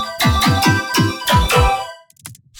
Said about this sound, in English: And change the pitch of our input yoink